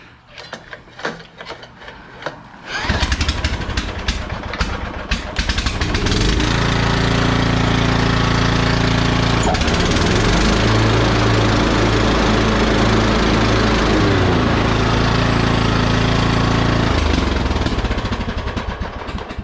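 A Scag lawn mower engine, tested while troubleshooting its PTO, starts after a short quiet stretch and runs loud and close, idling roughly with an uneven, pulsing throb and mechanical rattling throughout.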